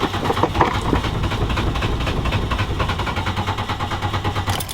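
A car engine being built for racing at Shasta Speedway cranks over in neutral with a steady, rapid rhythmic chugging that goes on without catching, close and loud throughout.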